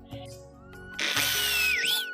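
A power drill whirs into a wooden block for a traditional Tamil aruvamanai cutter, a short rising motor whine that spins up loudly and holds, close by.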